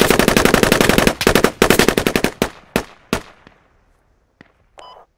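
Rapid automatic gunfire from the tactical shooter game Squad, with long rattling bursts followed by several separate loud single shots and fading echoes, then a brief faint electronic tone near the end.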